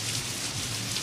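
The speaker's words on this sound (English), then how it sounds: "It's raining inside the store." Steady rain pours down inside a store in a 1976 Sesame Street scene, a dense, continuous hiss of falling drops heard close and alone with no talking.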